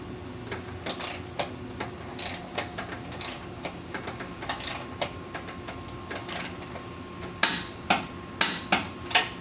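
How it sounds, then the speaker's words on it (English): Wrench tightening two bolts on a lower stress bar of a MINI Cooper: quiet repeated clicking ratchet strokes in short bursts, growing louder and sharper in a rapid series near the end. "This is probably the longest part of the whole process, tightening down those 2 bolts"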